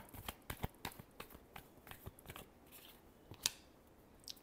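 Tarot cards being shuffled by hand, a run of quick papery riffles and flicks in uneven bursts, close and quiet, with a sharper snap near the end.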